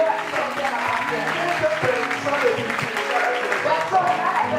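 A congregation at a worship service claps continuously, the applause running under a voice leading in French.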